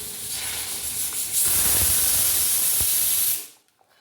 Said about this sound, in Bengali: এখন ডিম করব ডিমের অমলেটটা